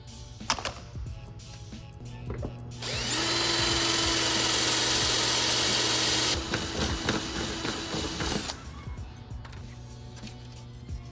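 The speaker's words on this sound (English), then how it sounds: "I finished drilling out those grill holes" A power drill bores grill holes in a Karuma Z aftermarket front bumper for a G35 coupe, with clicks and handling noise, then a loud, steady high-pitched whine for several seconds that drops in pitch and rattles before stopping.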